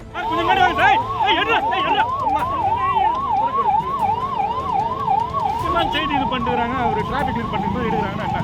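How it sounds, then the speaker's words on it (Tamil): An ambulance stuck in a crowd of party supporters, its wailing siren cycling rapidly and continuously at close range over the murmur of the crowd. "கட்சி தொண்டர்களின் கூட்டத்தில் சிக்கிய ஆம்புலன்ஸ் வாகனம் ஒன்றை போக்குவரத்தை சரி செய்து அனுப்பி வைத்தார்"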